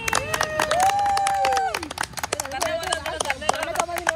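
An audience claps in brisk, uneven bursts for an event organiser at a Holi celebration, while music with a sustained melodic line and voices carry over the applause.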